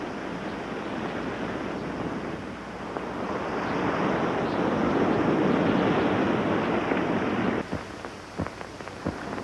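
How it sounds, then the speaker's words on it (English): Steady rain and wind blend with a broad roar of ocean breakers beyond coastal dunes, swelling louder midway, with a few sharp knocks near the end. "over the sound of the rain, he seems to hear the breakers from beyond the dunes"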